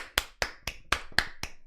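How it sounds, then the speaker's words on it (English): A small golf clap of about seven crisp, evenly spaced hand claps, close and dry, with nothing else around them. "Golf clap."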